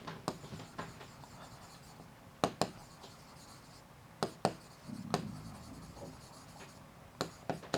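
Marker or chalk writing on a board during a physics class on alternating current, with repeated short scratchy strokes and taps in irregular bursts, close and moderately loud, with no talk over it.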